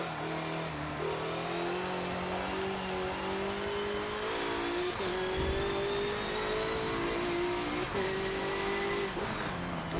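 A BMW M6 GTLM race car engine in Forza 7 revs hard and steadily for the whole stretch, its tone climbing and dipping as the throttle shifts, loud and close with a few brief lifts between pulls.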